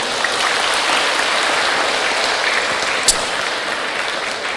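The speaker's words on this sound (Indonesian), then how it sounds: "Boleh sekali lagi tepuk tangan untuk beliau." Audience at an Islamic religious talk clapping for the speaker, a steady wash of many hands that holds at even loudness from start to finish, with a brief sharp knock near the end and no talking.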